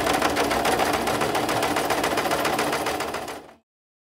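Domestic sewing machine running a wavy decorative stitch in reverse while making a chef's hat, a steady rapid mechanical chatter heard up close and alone, stopping abruptly near the end.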